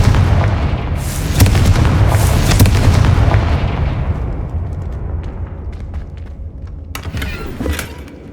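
A Confringo fire spell explodes in Hogwarts Legacy, a loud, booming blast with a heavy rumbling tail that slowly fades, followed by a few smaller crackles and pops.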